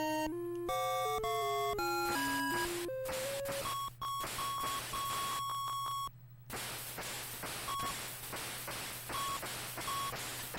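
Chiptune music from the NES game 1942 plays loud and alone: rapid stepping square-wave melody notes over a steady low drone, then repeated short high beeps and bursts of noise.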